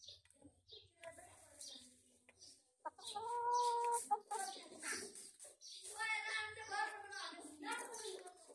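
A white Aseel rooster makes low clucks and throaty calls nearby, with a longer warbling call in the middle, set against quiet outdoor background.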